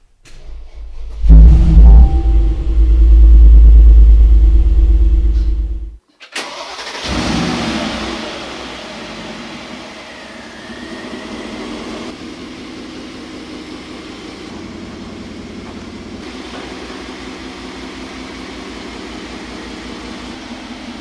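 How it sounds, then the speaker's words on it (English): A 2021 Mercedes G500 G-Class with Hofele Design styling starts with a loud, deep engine roar lasting several seconds, cuts out briefly, then settles into a steady, close idle rumble. "So let's listen to the sound of this G500."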